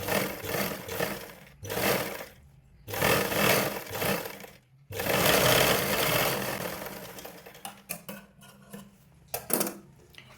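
Sewing machine stitches a blouse lining to the main cloth in several bursts of rapid mechanical whirring separated by short pauses, ending with scattered clicks and handling sounds.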